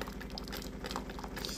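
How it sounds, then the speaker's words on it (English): A Delonghi coffee maker dispenses hot water in a steady, hissing, bubbling stream, heard close and continuous for the whole moment with no talk. "That is only hot water."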